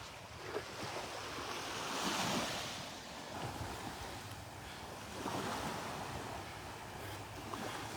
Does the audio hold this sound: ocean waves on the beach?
yes